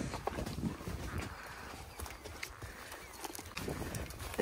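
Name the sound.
horse hooves splashing through a muddy puddle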